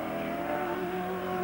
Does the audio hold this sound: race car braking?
yes